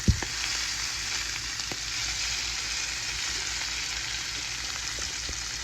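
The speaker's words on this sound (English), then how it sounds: "You can start to flip them over when they've got a nice crust like these do" Chicken drumsticks fry in lard in a pan, building a crust before going into the oven; a dense, steady sizzle and crackle runs throughout, close and loud, with a few faint knocks.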